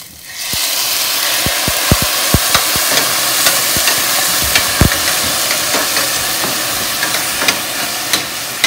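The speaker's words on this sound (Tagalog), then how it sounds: "I-prito muna natin siya." Pork frying in a pan with a steady, bright sizzle, punctuated by frequent sharp pops and spatters, close up and loud.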